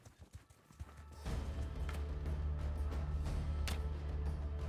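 Horse hooves clip-clopping in the video game Mount & Blade 2: Bannerlord, a loud rapid galloping rhythm that starts suddenly after a quieter stretch and continues steadily under battle noise.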